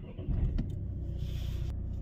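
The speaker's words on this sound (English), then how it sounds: "we will crank the engine." A Citroen-Peugeot car engine with a DCM3.5 ECU cranks and idles in a steady low rumble, close and moderately loud, with a brief surge early on and no talk.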